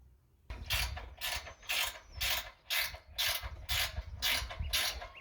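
Ratchet undoing bolts on a homestead structure, heard as a series of about nine evenly spaced rasping clicking bursts, close and clear with no talking.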